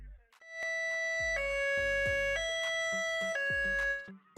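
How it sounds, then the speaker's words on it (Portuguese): A loud two-tone police siren alternates between a high and a low pitch in a steady, repeating cycle, with a brief tonal chirp at the start. "E finalmente, nós temos a sirene High-Low."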